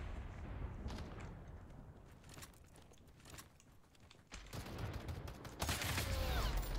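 Gunfire in an online multiplayer shooter match, scattered sharp shots and booms at varying distances building to a louder, denser barrage near the end, with no voices.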